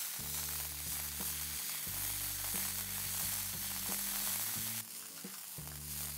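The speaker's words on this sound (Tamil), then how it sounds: "அந்த ரா ஸ்மெல் போகிற வரைக்கும் இதை நல்லா வாட்டுங்க" Ginger-garlic paste sautéing in a pan for bhindi do pyaza, a soft, steady sizzle under louder sustained musical tones.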